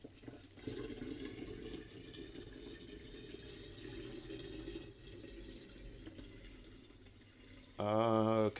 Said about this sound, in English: So I'm filling the thing up.